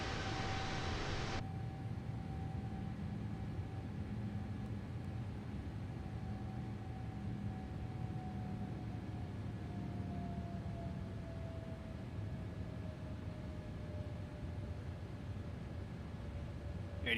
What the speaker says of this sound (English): we are going to take off now. Throttle up. Toga.